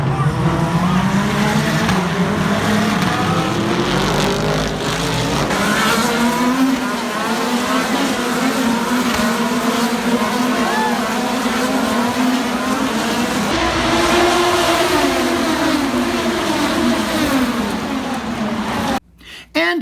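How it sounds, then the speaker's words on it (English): IndyCar race cars scream past on a track in Nashville, their high engine notes rising and falling as they pass, with a loud, continuous roar that cuts out abruptly at the end. "There were 3 races that we attended, from the vintage Indy cars to the GT America Series, and of course, the Indies."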